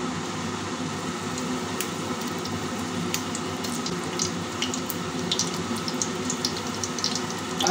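Fenugreek seeds and dried red chillies fry in about three spoons of oil for a pumpkin curry, producing a faint, steady sizzle with scattered tiny pops throughout.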